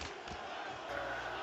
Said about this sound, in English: Crowd's getting behind Weidman